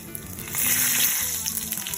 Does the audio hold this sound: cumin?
yes